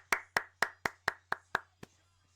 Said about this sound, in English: Applauding away.